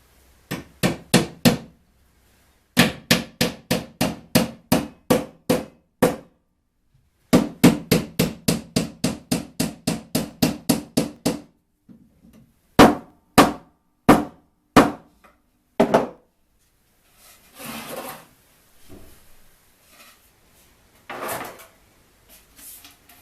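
Hammer blows drive nails into a glued wooden box frame for a garage ventilation box fan: loud, sharp knocks in quick rhythmic runs separated by pauses, then softer scraping and handling noises.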